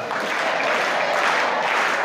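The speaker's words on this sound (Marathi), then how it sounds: "टाळ्या वाजवा." An audience at a Jijamata English School gathering claps hands in a dense, even roar of applause that holds steady for a couple of seconds, loud and close.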